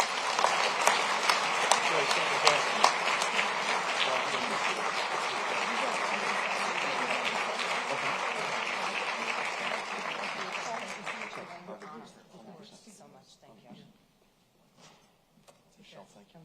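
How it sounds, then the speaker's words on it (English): An audience at a public policy forum gives a sustained round of applause that stays loud and dense for about eleven seconds, then thins out to scattered claps and fades to near silence. "Let's have one more round of applause."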